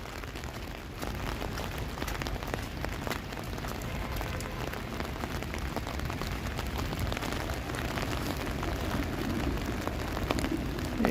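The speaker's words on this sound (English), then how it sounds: "I'm going to get lots of good ASMR rain noises" Freezing rain falls across a Toronto street on a gloomy evening, a steady close patter of drops on hard surfaces with scattered sharper ticks, continuous and fairly loud throughout without speech.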